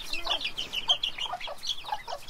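A frizzle chicken clucks in a quick run of soft, close, chattering notes on a farm.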